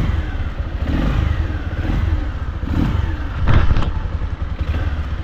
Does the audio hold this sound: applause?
no